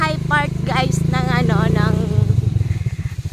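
A motorcycle rides along a muddy farm-to-market road, its engine a steady close rumble that breaks into a choppy, pulsing putter near the end, with people talking over it.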